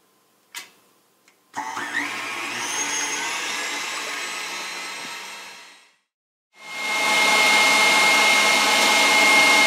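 An electric mixer whips eggs for a flourless chocolate cake, a loud steady motor whine running for several seconds, cutting out, then starting again at full volume.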